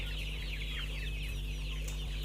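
Free-range village chickens cluck in a quick, continuous chatter close by, several birds overlapping over a steady low background hum, with no voices.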